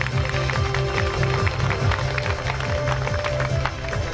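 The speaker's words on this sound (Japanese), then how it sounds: "温かい拍手ありがとうございます。" Audience applause for the racing drivers at the Motor Sport Japan 2019 Festival in Odaiba, a steady wash of many hands clapping throughout, with a faint musical tone running underneath.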